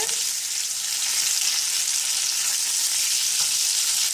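Chicken breast sizzles and crackles steadily in a hot pan, a bright continuous frying hiss up close with no talking.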